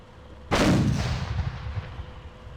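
A single loud boom of artillery or heavy gunfire in a military shooter game erupts suddenly and rolls off into a long rumbling tail, with no voices over it.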